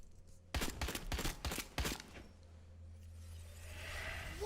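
Five or six sharp gunshots ring out in quick succession in a Resident Evil trailer, followed by a low hum and rising ambient noise.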